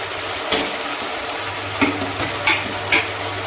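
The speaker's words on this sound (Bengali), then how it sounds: "এই ভাজা আলুগুলো দিয়ে দিলাম," Fried potatoes tipped into a cooking pan and stirred, giving a few short scraping clatters over a low steady hiss and hum, close and moderately loud, with no talking.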